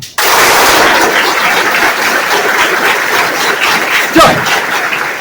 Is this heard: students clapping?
yes